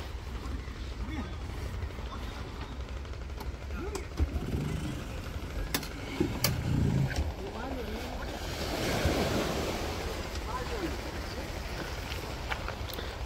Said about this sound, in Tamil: இந்த குளச்சல் கடல் வந்துட்டு பயங்கர ஆக்ரோஷமாக இருக்கும், இதோட அலைகள்லாம் பயங்கரமாக இருக்கும்